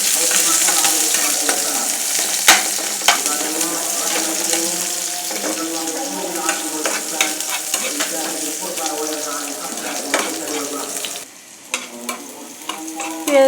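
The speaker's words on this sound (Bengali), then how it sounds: "আমি এখন পেঁয়াজগুলো ভেজে নিব।" Onions frying in a pan, a loud bubbling sizzle with frequent stirring scrapes and clatter, briefly dropping near the end before resuming.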